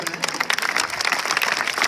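Enthusiastic clapping from an audience at a school farewell function in a Rajasthan government senior secondary school, a dense steady patter of many hands filling the room with no talk over it.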